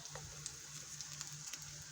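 Two garlic cloves hitting a hot frying pan while cooking fried cabbage, giving a soft, steady sizzle with faint crackles and small pops, quiet and close with no voices.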